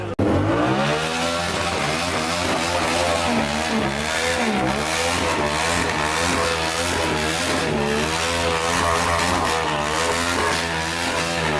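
A motorcycle revs hard through burnouts, its engine droning loud and close with repeated rising and falling surges for the whole stretch, no talk over it.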